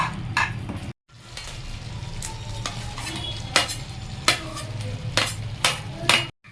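Fried veg Manchurian balls are stirred into a thick sauce in a pan, with a steady soft sizzle under repeated scraping and clinking of a spoon against the metal, close up and with no talking.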